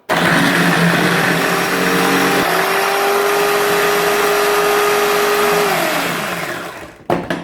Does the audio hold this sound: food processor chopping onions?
yes